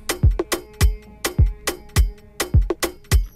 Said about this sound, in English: Then lastly, I added this tom here,